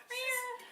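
A person imitates a domestic cat's meow, one drawn-out, nasal mew with a rising and falling pitch, close and fairly quiet.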